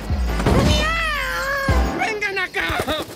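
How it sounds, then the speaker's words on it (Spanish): A cartoon cat meows with a long, wavering, whiny cry followed by shorter meows, loud and close, with a few thumps and speech-like sounds around it. "Es un gato negro y nos traerá mala suerte."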